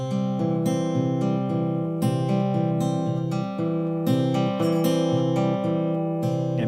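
Fingerpicked guitar pattern with thumb and finger pinched together, thumb on the fifth string, playing a steady, busy stream of overlapping plucked notes with ringing bass, close and clear with no talking.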